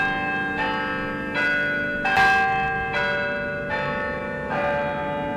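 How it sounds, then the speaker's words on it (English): Historic church-style bells of Albany City Hall in Albany, New York ring out in a steady peal, with roughly six strong, resonant strikes each followed by long overlapping hum and decay, heard alone without any voices. "The historic bells of Albany City Hall return us to Albany Street"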